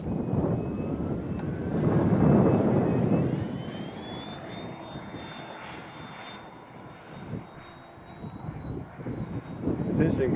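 A scratch-built, semi-scale F/A-18 Hornet electric ducted-fan jet, 95 inches long with a single 120 mm fan, flies past with a steady whooshing fan roar and a high whine, louder early on and then easing as it moves off, with people talking over it.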